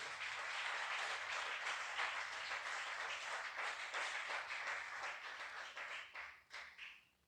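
Sustained applause for the King during a church service, dense clapping from many hands that holds steady and then thins out and fades near the end, heard at a moderate distance.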